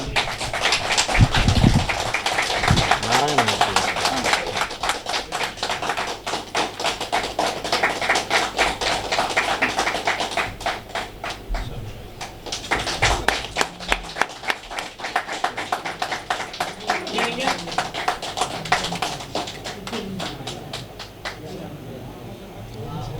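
An audience at a Tamil astrology gathering claps for a long stretch, bursts of dense hand claps rising and fading with brief lulls, while voices talk over it and a dog barks briefly.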